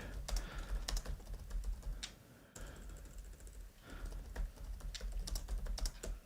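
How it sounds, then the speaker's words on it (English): Steady, close typing on a computer keyboard, a rapid run of soft clicking keystrokes that pauses briefly partway through before resuming, with no one speaking. "I'm just going quiet whilst I'm typing this"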